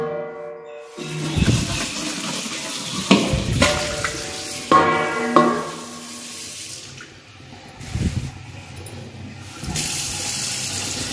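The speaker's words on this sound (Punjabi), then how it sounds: "ਲੇਕਿਨ ਉਸ ਤੋਂ ਪਹਿਲਾਂ ਮੈਂ ਫਰੂਟ ਧੋ ਲਵਾਂ।" Running tap water splashes and gurgles as fruit is washed in a sink or basin, a continuous close watery rush with handling knocks and swishes.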